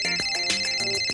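A phone ringtone plays a bright repeating electronic melody, with short tonal notes in quick succession, moderately loud and steady with no talk over it.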